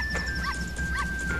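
Short yipping barks from a dog in the Majora's Mask video game repeat about three times against continuous game background music.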